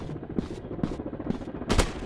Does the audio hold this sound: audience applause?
no